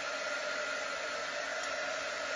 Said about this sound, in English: you can grab your little heat tool or your blow dryer, whatever you have, and you can use that to dry it up